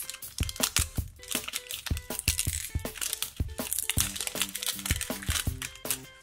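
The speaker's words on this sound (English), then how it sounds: "Let's unwrap some more to find our next surprise." Toy packaging for Halloween toys being torn open and unwrapped, a steady run of close crinkling, crunching and ripping plastic and cardboard with sharp cracks throughout.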